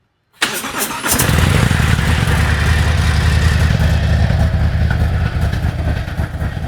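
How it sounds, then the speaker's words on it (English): Harley-Davidson CVO Road Glide ST motorcycle with stock mufflers, DCAT header and ThunderMax fires up after a moment of silence, then settles into a loud, steady, throbbing idle that continues to the end. "Let you hear the stock mufflers with a DCAT header and a ThunderMax."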